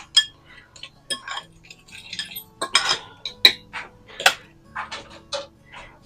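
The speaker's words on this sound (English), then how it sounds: "you're going to want to mix that till it's all mixed together" Seasoning with black pepper is mixed for garlic rye bagel chips, heard as close, irregular clinks and scrapes of a utensil against a bowl, coming in uneven bursts.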